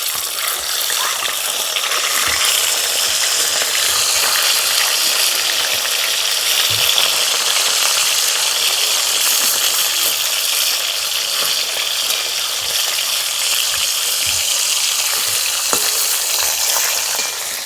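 Fish fries steadily in hot mustard oil in a wok after being turned, giving a dense, continuous sizzle with small crackles that stays loud and close throughout, with no talking.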